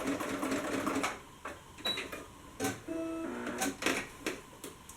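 Sewing machine back stitching fabric for paperbag pants, running in close, loud bursts that stop and restart as the stitching reverses, with a steady mechanical whir and brief pauses between runs.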